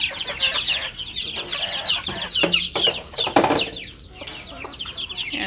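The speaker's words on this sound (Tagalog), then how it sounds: "Pinaspasan na ng ating mga manok." Backyard chickens cluck and chatter busily close by as spilled feed is scattered for them, a dense, continuous flock noise with occasional louder squawks and no talking.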